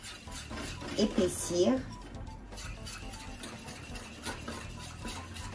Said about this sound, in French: When you stir, you want to go all around your pot.